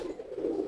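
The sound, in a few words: pigeon cooing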